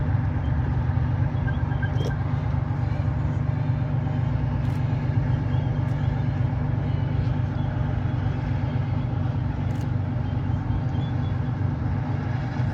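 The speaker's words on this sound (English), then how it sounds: "Now we notice coming from the right we have a couple of universal carriers of a reconnaissance unit coming forward to scout out the area ahead." A couple of WWII universal carriers from a reconnaissance unit roll forward at a re-enactment at the Canadian Tank Museum, their engines a steady, loud, low rumble with faint clanks over the whole stretch.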